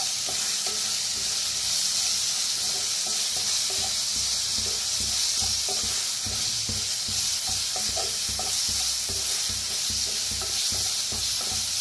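Curry paste with curry leaves roasts in a pan for a kadhi vada dish, giving a steady, close sizzle throughout with frequent scraping and stirring clicks from a spatula, and no voices.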